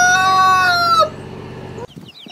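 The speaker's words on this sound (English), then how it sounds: "They cluck and chirp to each other, sharing all sorts of chicken gossip" A chicken gives a loud, close, drawn-out crowing call for about a second, followed by quieter clucking and farmyard noise that fades to near silence.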